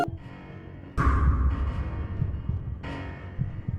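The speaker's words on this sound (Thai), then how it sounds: "ได้ยินเสียงหัวใจอยู่" Heartbeat effect from a Roblox school horror game, a low throbbing pulse that repeats steadily under a droning hum, fairly loud and up close, with no talking over it.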